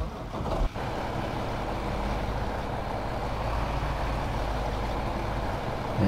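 A tractor engine in the video game Farming Simulator 15 drones steadily and loudly, a continuous low rumble after a brief bump at the start, with no talking.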